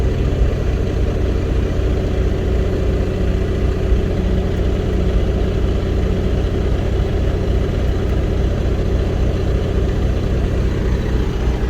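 Drift car engine held against its fuel-cut rev limiter, a loud, steady close-up drone that holds continuously without letting up, no voices over it.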